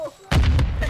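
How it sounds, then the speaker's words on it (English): Loud close gunfire bursts from a Search and Destroy match in a first-person shooter, a sharp heavy shot followed by a couple of quicker cracks and echoing booms. "I'm getting shot at."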